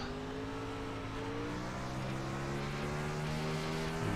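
Sportsman 360 spec race car motor screaming at Williams Grove, a loud, sustained in-car engine roar with steady high revs and rising pitch throughout.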